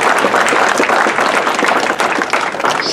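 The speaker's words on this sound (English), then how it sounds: "How about another round of applause?" Steady, dense applause fills a speedway awards banquet hall, loud and continuous throughout with no pause.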